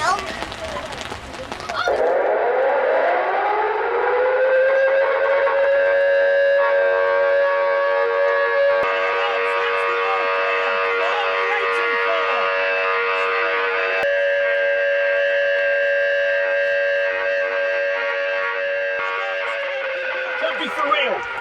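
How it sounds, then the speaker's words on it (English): A civil defence air raid siren wails on a school trip, rising from a short noisy start into a long, loud, sustained tone that holds steady with slight wavering for about twenty seconds. "The air raid sirens sound, it means we've got an air attack and you need to be under cover."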